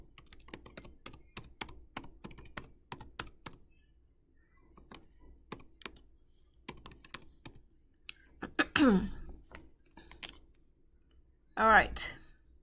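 Fingers type on a computer keyboard while entering an email address to create an account, a fast run of light clicks and taps with brief pauses, close and fairly quiet, with a couple of short louder noises near the end.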